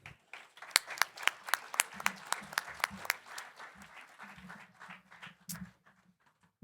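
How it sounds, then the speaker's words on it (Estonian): A room of people applauds at a closing ceremony for a student green-hunt competition held at Telia headquarters. The clapping is dense and lively, with a few louder claps standing out, over murmuring voices, before fading into scattered claps. "Aplaus!"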